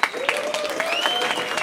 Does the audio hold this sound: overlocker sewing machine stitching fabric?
no